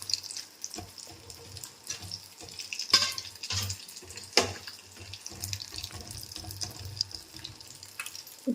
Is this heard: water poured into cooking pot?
yes